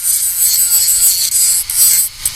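Rough, hissy scraping as the surface of a plastic gas can cap is roughed up with an abrasive, continuous strokes close up with a few brief pauses.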